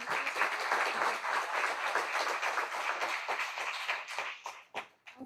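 A town hall audience applauds a panel, a steady wash of many hands clapping at moderate volume that thins toward the end into a handful of separate, trailing claps.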